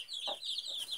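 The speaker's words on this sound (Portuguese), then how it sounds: "A mãe vai chamando, eles vão saindo." A mother hen clucks to call her chicks, one short low cluck sounding close against a steady high background of chirping chicks.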